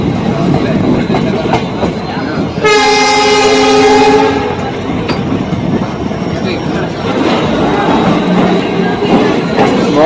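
The Uttranchal Sampark Kranti Express pulls into a small one-platform station, its loud rumbling roll steady throughout, with a long blast of the horn early on and a voice speaking over the noise.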